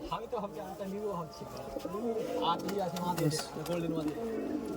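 Teddy pigeons coo in low, rolling repeated calls close by, layered over one another with a steady murmur of background noise and occasional higher chirps.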